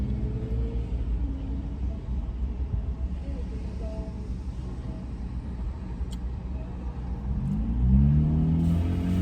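Busy road traffic rumbles steadily as cars pass nearby, and a vehicle accelerates louder toward the end.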